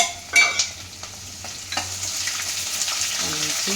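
Urad dal, chana dal and Byadagi chilies fry in a pan with a steady close sizzle, a few sharp clinks and stirring scrapes near the start, and no talk.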